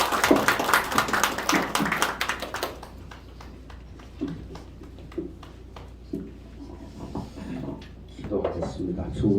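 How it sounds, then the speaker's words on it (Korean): Applause welcoming the pastor at a Sunday church service, a burst of dense clapping up front that thins into scattered, sparse claps and taps over a low room hum. "오늘 목사님 나오실 때 큰 환영의 박수로 맞아주시기를 부탁드립니다."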